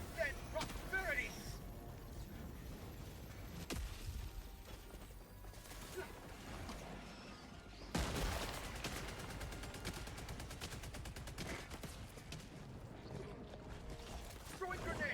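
A deployed sentry turret in Helldivers 2 firing rapid automatic bursts, the chatter running loud and sustained amid mechanical game noise and combat clatter.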